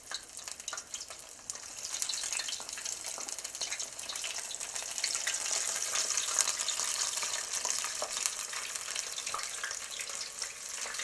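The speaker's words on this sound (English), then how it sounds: "just a couple at a time, I'm going to put it in this hot oil" Asparagus tempura sizzles and crackles steadily in about two inches of hot oil, a dense continuous frying hiss that stays loud and close throughout with no voices.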